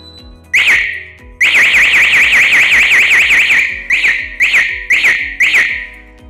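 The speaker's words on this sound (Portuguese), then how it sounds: "ela dará um bip para armar e na hora após o disparo para desarmar, dois bip de sirene" A shrill electronic burglar alarm siren warbles in rapid pulses as the system is armed and disarmed: one short burst, a long wavering wail, then three separate short bursts, loud and close.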